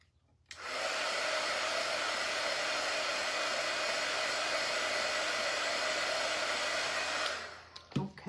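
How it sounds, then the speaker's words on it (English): A handheld hair dryer drying a small patch of white paint on a baseball welcome sign, switching on after a short pause and blowing in a steady loud roar for several seconds before cutting off, followed by a few faint knocks. "I'm going to dry this little bit of white I put on there."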